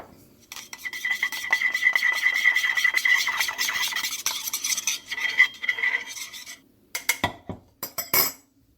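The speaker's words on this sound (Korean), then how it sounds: "우유에 타서 젓가락으로 살살 저어주세요" Chopsticks stir a powdered grain and nut mix into milk in a cup, a steady scraping and light clinking that runs for several seconds, then breaks into a few short separate taps and stirs near the end.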